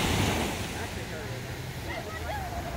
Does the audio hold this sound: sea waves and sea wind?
yes